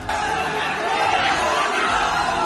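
A crowd clashes with police on the streets of Sambhal during the Jama Masjid dispute, a dense, continuous clamor of many voices close by.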